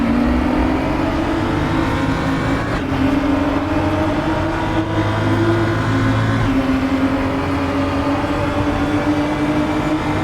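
Race cars starting a race in a sim racing game, loud engines rising steadily in pitch as they accelerate together, with a few brief knocks over the sustained roar.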